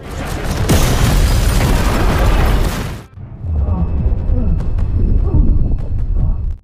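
A bomb explosion: a loud, sustained blast roars for about three seconds, then cuts to rumbling and scattered clattering debris.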